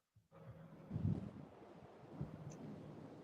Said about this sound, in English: I can hear the winds in the background